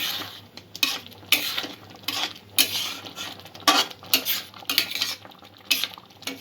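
A spoon stirs raw mango and date chutney in a pan, scraping and clinking against the metal in irregular repeated strokes over a low simmering sizzle, close and fairly loud with no talk.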